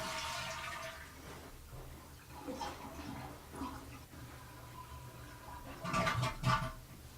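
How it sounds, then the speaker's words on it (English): A toilet tank drains while the flush lever is held down: rushing, gurgling water runs steadily throughout, swelling louder near the end, with no talking. "drain the tank by holding down the flush lever until the tank is completely"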